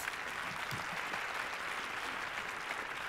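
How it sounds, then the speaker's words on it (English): A conference audience at Webbdagarna Stockholm applauds the team behind the event, a dense, even wash of many clapping hands filling the hall throughout. "Let's give them a big hand of applause"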